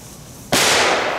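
A small firecracker bursts with one sudden loud crack about halfway through, after a quiet outdoor lull, followed by a brief sizzling decay.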